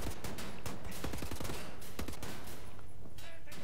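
Rapid bursts of gunfire from a mounted gun in Wolfenstein: The New Order, aboard a German submarine, loud and dense with overlapping shots and clatter throughout.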